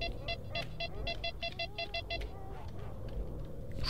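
Repeated electronic beeps from an anomaly detector in the S.T.A.L.K.E.R. video game, a quick run of evenly spaced chirps that stops midway, heard over low game ambience.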